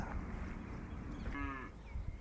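Cattle on a cow farm low, a short moo rising over a dull, steady outdoor background, fairly faint and distant.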